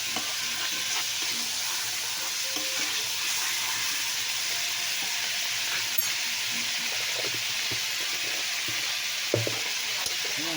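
Mixed vegetables stir-frying in a hot pan, a steady close sizzle running the whole time with light stirring scrapes and one sharp clink near the end.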